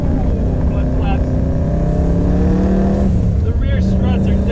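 A Subaru Impreza 2.5RS carrying a JDM WRX engine swap drives on a winter road, its engine droning loud and steady as it rises and shifts, with faint turbo whooshes and flutters breaking through.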